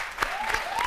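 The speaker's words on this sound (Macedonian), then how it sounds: "Ве молам аплауз еден" A brief burst of audience applause in a concert hall at a song competition final, dense clapping rising quickly and cut off after under a second.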